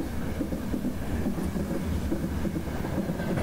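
A train rumbles directly overhead across a bridge while the listener stands beneath it, a loud, continuous low roar with faint rhythmic rattling of the railcars.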